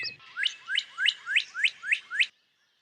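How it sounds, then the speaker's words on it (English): A northern cardinal sings a clear repeated phrase, about eight quick downward-slurred whistles in steady rhythm, loud and close, then silence. "This northern cardinal song is a common early morning sound across much of the U.S."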